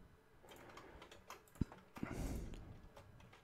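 Keys clack on a computer keyboard as a program command is typed, quiet and close, a scattered run of taps with a couple of sharper strikes partway through.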